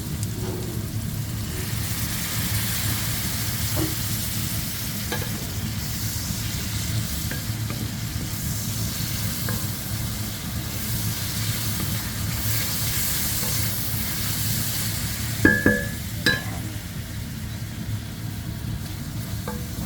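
Bean sprouts (togue) stir-fried in a pan, a loud continuous sizzle with steady tossing and a couple of sharp utensil clinks near the end, close up, no talking.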